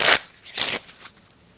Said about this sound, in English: we'll just put that queen back in and shuffle for what will be our last draw